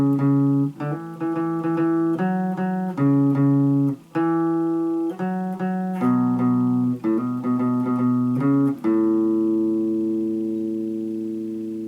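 Guitar plays a repeated intro phrase of clear, ringing strummed chords and double-stops in a steady rhythm, the figure cycling twice before a final chord sustains and fades; no talking.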